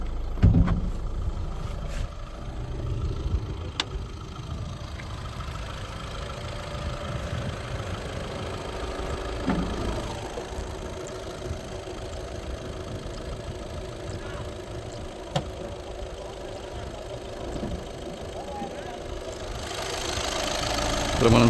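A 2019 Volkswagen Vento Highline diesel idles nearby, a smooth, even low clatter that holds steady for over twenty seconds with only faint, occasional handling sounds.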